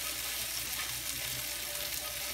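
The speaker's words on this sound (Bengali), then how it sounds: "তো আমার মাছটি ভাজা হয়ে গেছে, এই পাশে ওই পাশ দুই পাশে আমি উলতে দিয়েছিলাম।" Canadian fish fries in a pan after being turned on both sides, giving a steady, close hiss of sizzling oil with no pauses and no talking.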